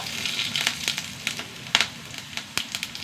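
Mustard seeds, urad dal and curry leaves sizzle in hot oil, a steady close hiss broken by sharp popping crackles, with no voices.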